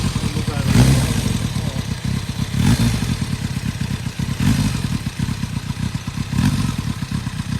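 A custom silver 1999 Kawasaki ZRX1100 motorcycle rides up a street, its engine running in a loud, steady, throbbing rumble with pulsing surges every couple of seconds. Voices are heard at times over the engine.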